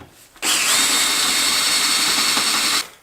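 A power drill spins a hex-shank step drill bit, a loud steady whirring drone that starts abruptly, holds for over two seconds and cuts off, close up with no talk.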